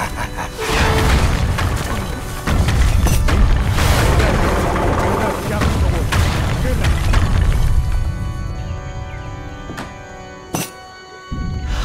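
Battle noise from Age of Empires 3, a dense, loud stretch of booming shots and crashing impacts that fades in the last seconds. Excited voices are heard over the fighting.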